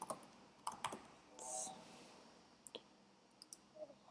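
Sparse keyboard clicks while typing a business name into an online store signup form, a few separate quiet keystrokes and short bursts spread across the stretch with pauses between them.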